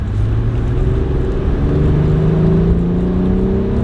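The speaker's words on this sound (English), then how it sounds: "get a little bit of that engine noise" An Acura TL Type S pulls through a gear as its engine revs climb in a smooth, rising whine over a low road rumble, heard loud and steady from inside the car with nobody talking.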